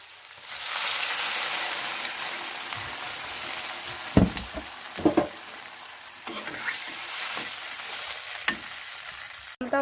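Water poured into a hot pan of partly fried potatoes, bursting into a loud hiss that swells then settles into steady bubbling sizzle, with a few sharp clinks of a spoon stirring against the pan.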